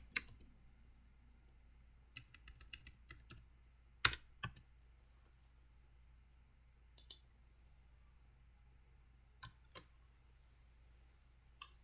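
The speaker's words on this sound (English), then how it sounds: "Let me type analysis." Light clicking keystrokes on a computer keyboard while working in a Microsoft Excel spreadsheet, arriving in short scattered bursts over a quiet room tone, close and fairly soft, with no talking.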